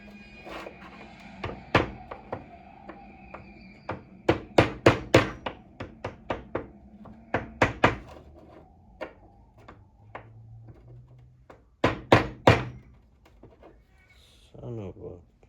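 A hammer strikes a part on an Xmaxx RC car in sharp, close metallic bangs, coming in quick clusters with pauses between, while someone talks at times.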